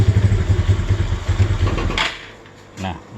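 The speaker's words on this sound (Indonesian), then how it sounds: "motor hidup tapi digas berbet gitu." A Suzuki Spin motorcycle engine, running without a battery, sputters and stumbles when revved, a close, loud, rough pulsing that falters and then dies away into a brief quiet with faint clatter.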